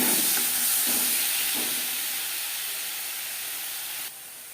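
Spices hit hot mustard oil for an aloo chop potato filling, a loud, close, continuous sizzling hiss that slowly eases and then drops off abruptly near the end, with no talking.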